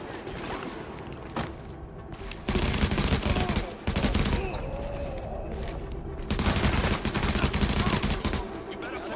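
Automatic gunfire from the video game Tom Clancy's The Division comes in dense, loud sustained bursts with brief pauses between them, close and continuous over a cluttered game soundscape.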